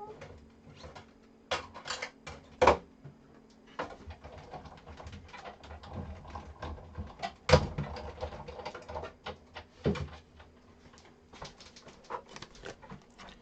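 A ScanNCut machine cutting out a paper panel inked with alcohol ink, giving a low steady motor hum broken by scattered sharp clicks and ticks.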